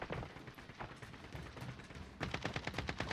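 Rapid automatic gunfire rattles in a Warzone battle, a quiet, somewhat distant stream of shots that grows denser and sharper toward the end.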